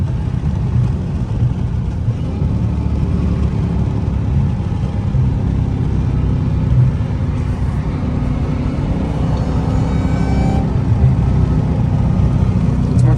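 Dodge Challenger Hellcat Redeye exhaust while driving, a constant loud low-pitched engine rumble from inside the car with road noise, steady and droning without revving bursts, exhaust seemingly subdued.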